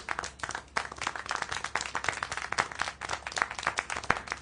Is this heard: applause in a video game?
yes